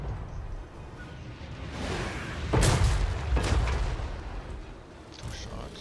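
A few deep cannon booms from three Empire cannons in the video game Warhammer III go off in quick succession, loud and rumbling, over a steady background of battlefield noise.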